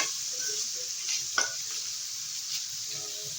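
Chowmein ingredients fry in a pan, producing a steady bright sizzle with a single clear scrape of a stirring spoon midway, close and moderately quiet.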